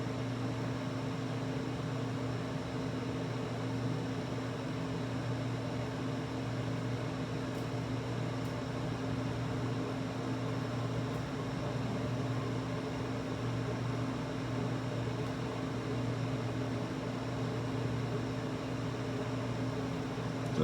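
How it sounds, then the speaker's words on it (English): An off-grid window air conditioner runs on cool mode with a low fan and its compressor engaged, giving a steady, even hum and whir with a faint constant tone. The sound is close and unchanging throughout, with no voices. "Just turned on the AC unit. Takes a second to fire up."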